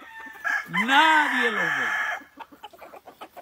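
A rooster lets out one loud, close crow lasting over a second, followed by a rapid series of short clucks, with a person speaking briefly.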